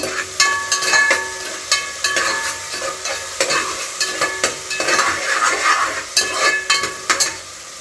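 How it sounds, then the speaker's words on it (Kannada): Onions sauté in a hot pan for a hotel-style chicken liver fry, a steady close sizzle broken by regular scraping strokes of a spatula stirring them, with no talk. "ಈರುಳ್ಳಿ ಸೇರಿಸ್ಕೊಂಡು ಒಂದು ಎರಡು ಸೆಕೆಂಡು ಕ್ಲೀನಾಗಿ ಬಾಡಿಸ್ಕೊಬೇಕು"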